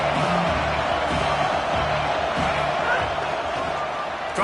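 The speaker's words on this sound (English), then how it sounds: "This crowd ready to make its presence known." A stadium crowd in a college football video game, a loud dense roar of cheering that holds steady throughout, with no commentary over it.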